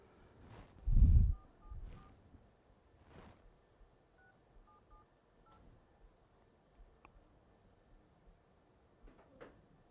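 A telephone keypad gives off a run of short touch-tone beeps, with a loud thump near the start and quieter clicks and handling noises afterward.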